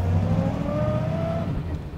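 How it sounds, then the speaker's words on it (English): A 1934 Ford Cabriolet's flathead engine accelerates close by, a steady loud mechanical drone with rising induction noise that continues unbroken for the full two seconds. "There's one thing that I love about these old flatheads, it's the induction noise."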